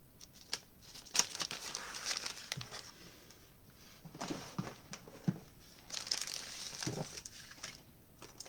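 Plain cardstock being creased and folded for a handmade greeting card, with soft crinkling and rubbing strokes in bursts, close and fairly quiet, no talking.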